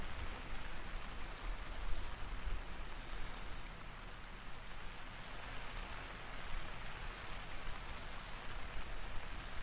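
Steady video-game rain on a mountain in The Hunter: Call of the Wild hisses without a break, a dense even patter of drops on a surface, with no voices over it.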